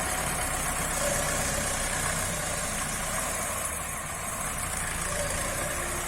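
A tractor engine runs steadily throughout while spreading fertilizer on a muddy wheat field, a continuous low rumble with a rough, knocking idle and no voices.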